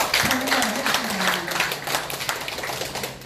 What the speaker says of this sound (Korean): 앞으로 금천구의 발전을 위해서 크게 일해달라고 큰 박수로 감사를